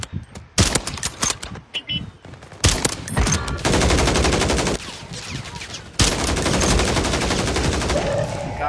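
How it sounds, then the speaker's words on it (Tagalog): Loud bursts of gunfire in a shooter video game, with rapid automatic fire running on and off through most of the stretch and a short gap midway, with no talk over it. "Tao, may bumabaril dyan ah."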